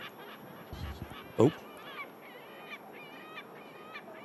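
A seagull at Manchester Airport gives a brief loud honking call in the middle, heard under quiet background noise and a short spoken exclamation.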